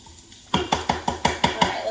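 Frozen onion being chopped for an Instant Pot soup: about eight sharp, evenly spaced knife thuds on a cutting board, close and crisp after a brief quiet start.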